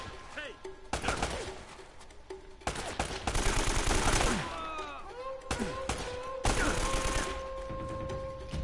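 Gunfire from Uncharted: Drake's Fortune rattles in dense bursts and single shots with ricochet whines and impacts, loud and near, while a player talks over the action.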